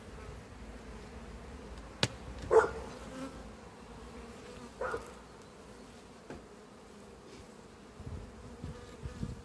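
A steady, faint hum of honeybees buzzing close by inside a Warré hive, with a few soft knocks and clicks scattered through.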